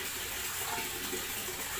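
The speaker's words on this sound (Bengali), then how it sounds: "দেখো হয়তো জলের আওয়াজ পাচ্ছ, বাথরুমে জল ভরছি, এরা বালতিতে জল ভরছি" Tap water running into a bucket in a bathroom, a continuous soft hiss and splash that is faint and alone for a brief moment.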